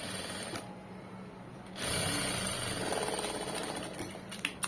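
A sewing machine stitches a seam in fabric with a steady, fast mechanical whirr that runs close and even, followed by a couple of sharp clicks at the end.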